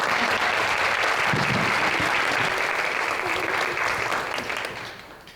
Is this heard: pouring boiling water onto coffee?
no